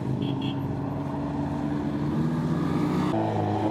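A car engine on Mulholland Highway rumbles steadily with a rough, low drone that shifts pitch near the end, as if the vehicle changes gear or speed.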